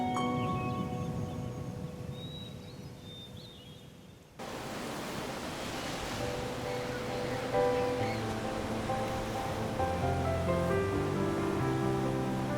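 Ocean waves and surf rolling in, a steady broad wash of water that starts faint and grows fuller and louder midway, with no voices.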